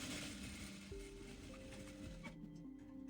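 A sewing machine stitches fabric along a shoulder seam, giving a quiet, steady mechanical whir with rhythmic clicking and faint tonal shifts as it runs.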